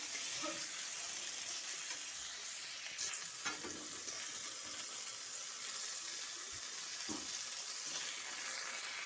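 Nigella seeds, then onion paste, dropped into hot oil: a bright, continuous sizzle and crackle close by, with a few clinks and stirring knocks.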